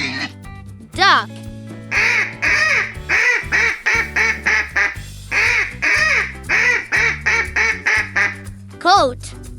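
Duck quacking in a rapid run of a dozen or so short, nasal quacks, loud and close, over a light children's music backing, with a brief voice at the start and end.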